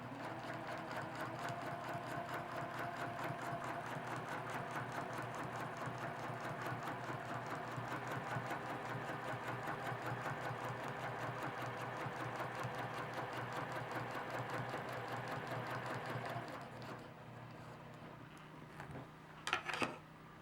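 A sewing machine stitches fabric in a fast, even run of rapid needle strokes for about sixteen seconds, then stops, followed by a few soft handling clicks.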